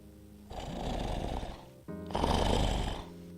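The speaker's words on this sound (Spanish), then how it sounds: "gu gu es el sonido que se hace al roncar" Snoring from a sleeping person comes in two long, rasping breaths with a short pause between them, close and moderately loud, the second snore stronger than the first.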